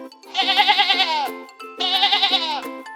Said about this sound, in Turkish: Burada bir keçi var. Keçiler me diye ses çıkarır.